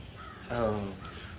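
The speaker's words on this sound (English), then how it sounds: "Birds are flying around." A crow caws outdoors, one drawn-out call rising over a steady wash of background noise, with a fainter second caw shortly after.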